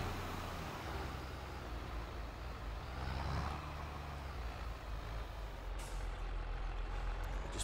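A tractor with water carts in Farming Simulator 22 idles and maneuvers into a parking spot, giving a steady, dense engine drone with a brief hiss of air near the end.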